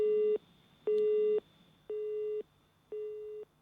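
Telephone busy signal: four steady beeping tones, each about half a second long, separated by short gaps, alone and clear with no talking.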